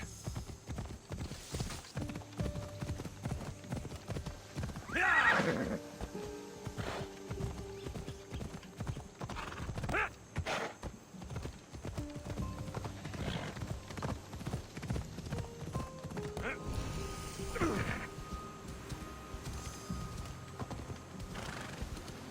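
Steady clip-clop of a galloping horse ridden in Assassin's Creed Odyssey, a close rhythmic hoofbeat lasting throughout, with a few whinnies and neighs breaking in along the way.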